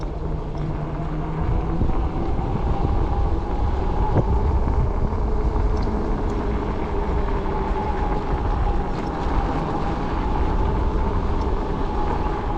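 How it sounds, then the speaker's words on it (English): Steady roaring wind buffeting the microphone during an electric bike ride, a loud constant rush with low rumble that never lets up. "It's a little windy."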